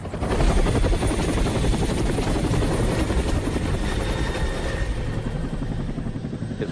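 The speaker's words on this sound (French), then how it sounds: "Les hélicoptères ne peuvent voler qu'en été." A helicopter's rotor chops in a fast, steady rhythm under a loud engine drone, close and continuous throughout, in Antarctica.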